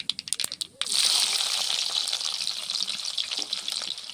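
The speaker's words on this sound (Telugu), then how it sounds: "ఎర్రగడ్డలు వేస్తున్నా" Chopped red onions drop into hot oil in a pan for a village-style pappucharu meal, a loud steady sizzle bursting in after a few soft clinks and holding strong throughout.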